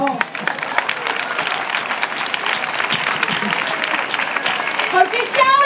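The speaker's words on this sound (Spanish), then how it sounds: "dale un aplauso, por favor" An audience applauds at a March 8 flash mob for abortion rights in Pamplona (Iruñea): dense, sustained clapping from a sizable crowd, steady and loud throughout, with a few shouts and whistles mixed in near the end.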